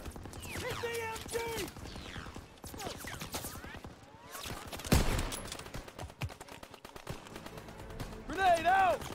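Machine gun fire in the World War II shooter Call of Duty: WWII, sharp rapid bursts and scattered shots mixed with shouting voices, explosions and battle noise, the loudest crack near the middle.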